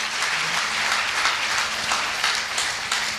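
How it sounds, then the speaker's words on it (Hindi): Applause from an audience at a business seminar, a dense, steady wash of many hands clapping continuously, moderately loud and without talk over it. "तो मैं चाहूंगा ऐसे सेफ शॉप इंडस्ट्री के लिए एक जबरदस्त तालियां होनी चाहिए।"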